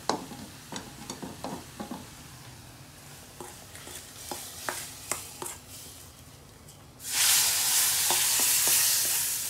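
Sambar powder stirred into hot oil in a pan: soft scraping stirs and light clinks over a quiet sizzle, then a sudden loud, steady frying hiss takes over near the end.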